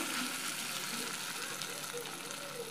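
Sabudana vada, sago patties coated in a little flour, fry in hot oil with a faint, steady, even sizzle that runs throughout without breaks.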